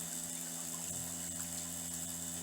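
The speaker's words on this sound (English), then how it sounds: "now the water is running over the edge of the bowl here" Pumped water spills over the rim of a blue bowl, a steady close splashing trickle with a constant pump hum beneath it and no voices.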